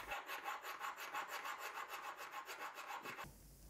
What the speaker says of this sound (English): Before we do anything else, we'll need to hone the tool.